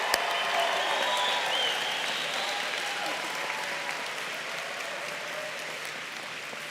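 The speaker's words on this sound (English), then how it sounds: "give them a round of applause." Dense, steady applause from a large audience at a law school commencement ceremony for the graduating class, sustained and evenly loud throughout before easing slightly toward the end.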